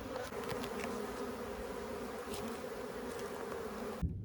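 A swarm of honeybees buzzes steadily at close range while moving into a hive entrance during a transfer into a ten-frame box, a dense continuous drone with no talk, ending abruptly at the close.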